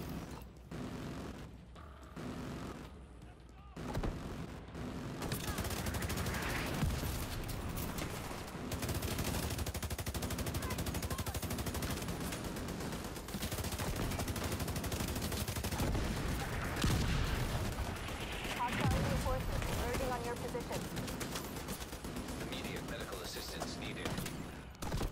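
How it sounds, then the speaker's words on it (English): An autocannon firing in The Division 2 video game, firing blind during a heroic mission at Capitol Hill: a dense, continuous rattle of heavy gunfire and mechanical clatter that runs under game voices and battle noise for most of the clip. "The autocannon seems to be firing blind."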